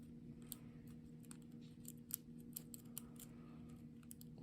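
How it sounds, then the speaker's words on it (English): A lock pick works pins inside a lock, giving small sharp clicks at irregular intervals, close and quiet over a low steady hum, with no talking. "there's another click, another click, another click"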